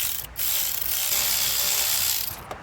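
A ratchet on a wobble adapter turns a 14 mm bolt near an electronic parking brake motor, its close, rapid pawl clicking running continuously for a couple of seconds.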